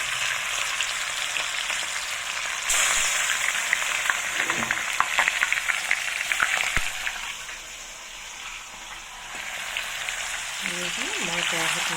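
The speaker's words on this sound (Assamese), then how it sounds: "মই এপিচ এপিচকৈ এতিয়া মাছখিনি ফ্ৰাই কৰি ল'ম" Fish pieces go into hot oil in a wok one by one, raising a hissing, spattering sizzle that swells partway through and then eases, with a few sharp clicks of utensils and a soft voice near the end.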